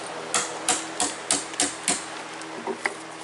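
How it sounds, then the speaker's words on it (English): A hammer strikes a chisel cutting out wood, giving about seven sharp, evenly spaced metallic knocks at close range followed by a couple of lighter taps, with no talking. "So he's chiseling it out so that he can continue drilling down"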